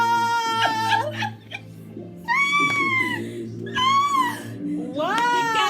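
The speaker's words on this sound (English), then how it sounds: "The cat has run downstairs." A cat meows several times indoors in short rising and falling cries, fairly close, with a low steady hum from a television underneath.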